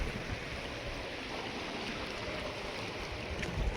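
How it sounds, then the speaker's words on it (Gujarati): Small sea waves wash in steadily at Gomti Ghat, Dwarka, at night, a continuous, even rush of water and surf noise with no clear breaks, fairly close and moderately loud. "તમે જોઈ શકો છો નાના મોજા આવે છે."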